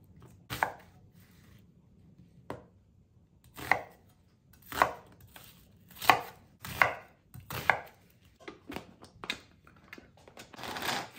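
A knife chops onions on a cutting board in a home kitchen, the blade striking in a string of sharp, close taps that come in bursts and grow quicker toward the end, with no talking.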